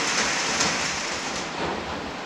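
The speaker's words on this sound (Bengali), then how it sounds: "প্রচণ্ড জোর বৃষ্টি পড়ছে।" Very heavy rain pours down steadily in the hills at Shergaon, Arunachal Pradesh, a dense, continuous broadband hiss of close rainfall that stays loud throughout with no voices.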